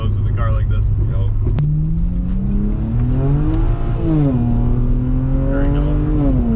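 A tuned, modified rear-wheel-drive BMW 335i twin turbo making about 430 hp launches hard. Its loud, steady engine drone climbs in pitch, dips, then rises again as it accelerates. Voices are heard inside the car.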